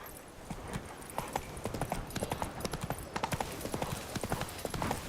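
A horse in The Witcher 3 video game clip-clops at a steady trot, its hoof beats quick and rhythmic over a constant ambient background, with no talking.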